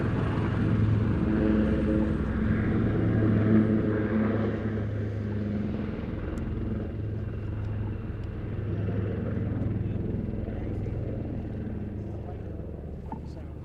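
A Wildcat helicopter, fitted with a nose-mounted electro-optical device, flies a display at the RAF Cosford air show: a steady, rumbling rotor and engine drone holds throughout while a commentator talks over it.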